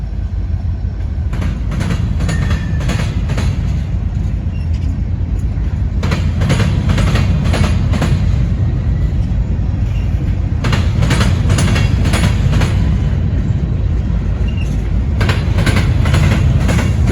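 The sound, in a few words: Norfolk Southern freight train passing on tracks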